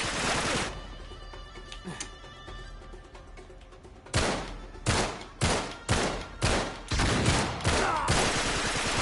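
Gunfire in Uncharted 3: Drake's Deception, a sharp opening blast, then a rapid series of six or seven loud, evenly spaced shots close up, with quieter ambience between.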